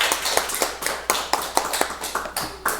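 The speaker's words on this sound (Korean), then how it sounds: "우리 하나님께 영광의 박수 올려드립니다" Congregation in a Korean church youth worship service clapping together, a run of sharp, fairly even hand claps in an irregular rhythm, close and moderately loud with no talking over them.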